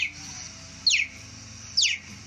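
A cheetah gives two short, high, bird-like chirps spaced about a second apart, clear and fairly close over a low steady background hum, with no talk.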